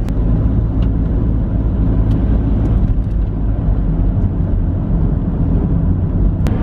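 A car rolls slowly along a snowy road, giving a steady low rumble of engine and tire noise from inside the cabin with occasional faint clicks and no talking.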